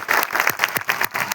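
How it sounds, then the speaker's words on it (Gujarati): A crowd claps in unison at a political rally in Vadodara, a short burst of dense, rhythmic applause with sharp overlapping hand claps close by. "આપણા સંયોજક અરવિંદ કેજરીવાલજી માટે એકવાર તાળીઓ થઈ જાય"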